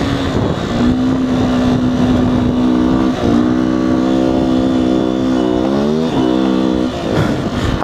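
A 2019 Beta 125 RR S two-stroke dirt bike engine revs hard and steadily, its loud buzzing note holding high then briefly dipping and climbing again, close up with no talking.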